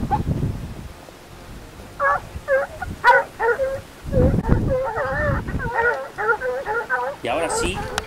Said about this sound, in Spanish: Las ladras seguían y parecía que el monte reventaba con el paso de la reala.